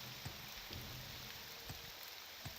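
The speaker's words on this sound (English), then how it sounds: "Look at that, the thunder stopped. The rain's dying down." Steady rain falling in the video game Morrowind as a storm eases, a continuous hiss with a few soft low thumps, moderately quiet and with no voices.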